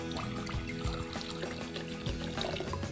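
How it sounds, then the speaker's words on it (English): Water pours steadily into a flower vase being prepared for hyacinths, a continuous close splashing trickle with small bubbling surges, heard alone without talk. "Let me add some water first."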